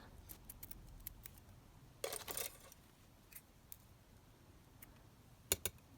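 Scissors snipping through pearly decorative trim at a crafting table, a few quiet, crisp cuts with one short flurry of snipping and a couple of sharp clicks, close up in a quiet room.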